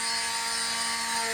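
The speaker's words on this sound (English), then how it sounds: "Dremel." A Dremel rotary tool running and cutting outdoors, a loud, steady high-pitched whine with constant tonal hum over the whole brief moment, close and with no voices.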